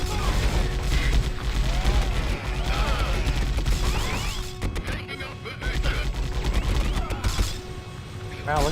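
Enemy strafing gunfire aboard a Tau ship in the video game Fire Warrior, loud sustained bursts of shots and crashing impacts with brief lulls, under layered game sound.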